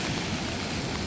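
Heavy tropical storm rain pours down in a dense, steady roar on eastern St. Thomas at Marant Bay, loud and continuous, with no voices.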